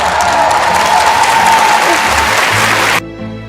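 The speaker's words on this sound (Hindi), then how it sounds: "राष्ट्रगान खत्म होते ही पूरा स्टेडियम तालियों की गड़गड़ाहट से गूंज उठा।" A stadium crowd breaks into loud, thunderous applause after a national anthem, dense and sustained for about three seconds before cutting off abruptly into quieter background noise.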